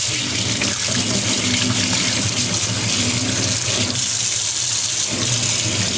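Hands being washed under a running tap, a loud continuous close stream of water splashing into a sink, steady throughout with slight shifts as the hands move.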